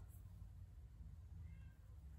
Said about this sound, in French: Et Perle qui miaule